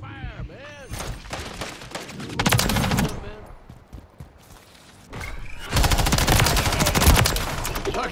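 Call of Duty multiplayer gunfire comes in loud bursts of rapid automatic shots in two long volleys with a quieter gap between them, while voices talk over the action.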